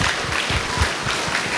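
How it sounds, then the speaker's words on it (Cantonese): An audience at a Christmas talent show applauds its special guests, steady dense clapping at moderate loudness for the whole stretch. "喺呢度，我哋再次熱烈嘅掌聲，"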